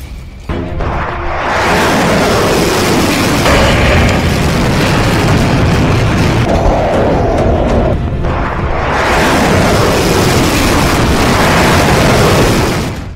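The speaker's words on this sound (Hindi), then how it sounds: "500 किलोमीटर रेंज वाली इस्कंदर मिसाइल जहां गिरती है, वो 700 किलो वाले विस्फोटक से धमाका करती है।" Heavy blasts from an Iskander ballistic missile carrying a 700 kg explosive warhead in Ukraine: two loud, sustained booming roars with rumbling debris, the second surge building near the end.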